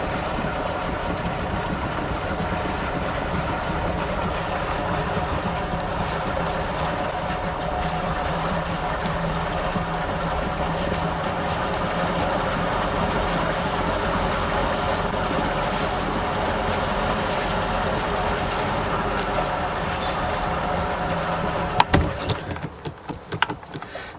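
Starcraft boat engine running steadily in gear with a faulty idle, a continuous close drone and hum that holds for about twenty seconds before cutting off into a few clunks.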